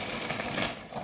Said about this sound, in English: Let's get the keycaps out of the bag.